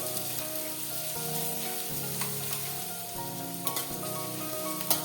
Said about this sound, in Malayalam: ഇഞ്ചി ഇട്ട് ചെറുതായിട്ടൊന്ന് വഴന്ന് വന്ന് കഴിയുമ്പോഴത്തേനും ബാക്കി ഉള്ളി എല്ലാം കൂടെ ഇട്ട് കൊടുക്കാം.